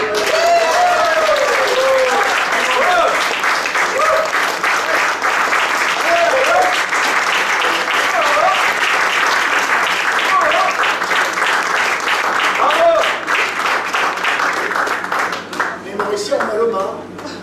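An audience applauds an international tourism silver medal award at an evening ceremony: sustained, loud, dense clapping throughout, with brief vocal exclamations and chatter woven in, thinning slightly near the end.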